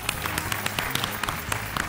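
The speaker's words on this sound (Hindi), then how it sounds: "जोरदार तालियों के साथ स्वागत करते हैं" A studio audience applauds to welcome a judge on a Hindi dance TV show, a steady wash of clapping with scattered sharper claps throughout.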